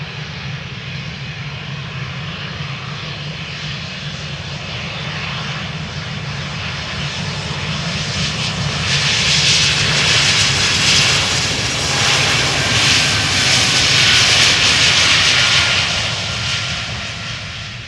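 A nearly new airliner operating flight 1423 at Amsterdam Schiphol roars with jet engine noise, building to a loud, bright, hissing peak midway as it passes close by, then fading slightly.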